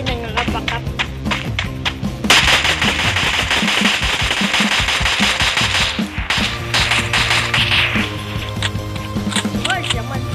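M4A1 rifle fire in Free Fire Max: rapid bursts of sharp shots with a loud sustained volley in the middle, while someone talks over parts of it.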